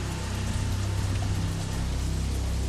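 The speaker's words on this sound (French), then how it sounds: "Comme il pleut à verse" Heavy pouring rain at a Berlin central station construction site, a dense steady hiss of downpour filling the whole stretch, close and constant with no talk.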